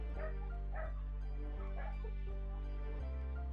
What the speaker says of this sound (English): A mother dog with puppies gets lucky.